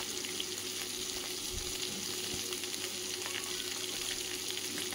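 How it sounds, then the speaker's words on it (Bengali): Small tangra fish fry in hot oil, giving a soft, even sizzle with faint crackles that runs steadily throughout, quiet and with no one speaking. "মাছগুলো মোটামুটি আমি ভেজে নিলাম"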